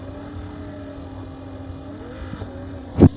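Engine of a video game vehicle fitted with a grenade-launching gun, a steady droning hum with a sustained tone that rises slightly, ending in a couple of sharp loud bursts.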